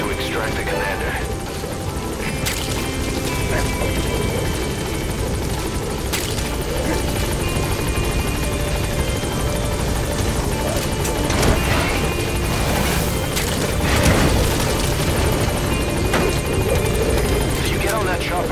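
A helicopter in the video game Metal Gear Solid V: The Phantom Pain roars loudly and steadily for the whole stretch, dense rotor and engine noise with occasional impacts and game speech mixed underneath.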